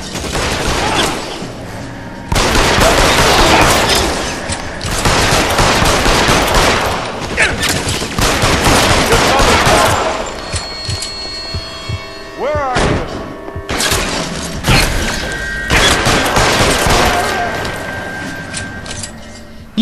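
Gunfire during a shootout in L.A. Noire: loud, close volleys of rapid shots and heavy thumps in several bursts separated by short pauses, with voices shouting over the action.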